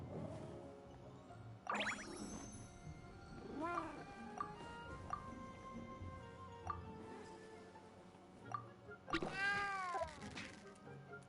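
Several cats meow in Genshin Impact, with repeated close meows and a loud drawn-out caterwaul near the end over soft game music.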